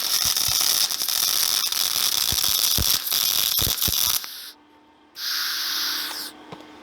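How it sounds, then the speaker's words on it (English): Welding a four-way wedge on a log splitter: a loud crackling arc sputters close by with rapid pops, cuts out briefly to near silence, then resumes as a steady hiss before stopping. "I think I'm gonna go ahead and weld this one right here."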